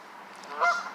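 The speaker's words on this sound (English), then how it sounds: "some ducks and Canadian geese in the city" Canada geese on a city waterway in Boston honk once, near and clear, over a steady low background.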